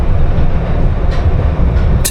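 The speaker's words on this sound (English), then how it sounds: "Today I'll be taking the subway anti-clockwise around the circular loop" Glasgow Subway underground train running on its circular loop, a steady loud rumble of wheels and carriage with faint higher squeals and a hiss near the end, no voices.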